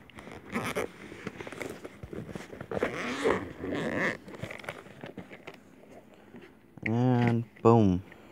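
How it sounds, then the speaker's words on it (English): A zipper on a small case is drawn open in two quick, close rasping pulls near the end, after quiet handling noises and some talking. "Let me unzip it."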